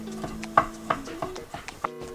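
A knife chops vegetables into planks on a cutting board for julienne strips, giving about seven sharp, evenly spaced knocks close by with no one speaking.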